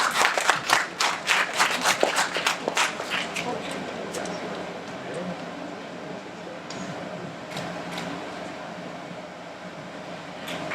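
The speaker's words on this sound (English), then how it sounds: "Ladies and gentlemen, a big round of applause." An audience at a course completion awards ceremony in Hong Kong breaks into loud, dense applause that thins out after a few seconds into scattered claps over room hum.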